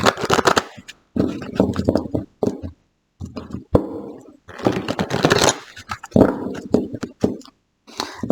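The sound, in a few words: shuffling cards for a 10-card tarot draw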